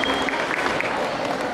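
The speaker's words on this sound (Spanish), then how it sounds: "Más fuerte el aplauso entonces para esta gala folclórica de nuestro ballet musical de Icantur" Applause from an audience at a folk ballet gala fills the hall in a short, dense burst of clapping, with a faint voice over it.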